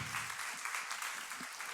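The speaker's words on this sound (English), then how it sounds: "Can I get a big applause for Professor Dr. Jean Rhodes?" Audience applause for a keynote speaker at a summit, an even, dense wash of clapping heard from a distance, fairly quiet and unbroken, with no talk over it.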